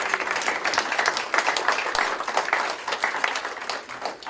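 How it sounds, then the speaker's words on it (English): Crowd applause at a congressman's town hall, brisk and sustained for about four seconds, close-up with individual claps audible throughout. "So we could give her a round of applause."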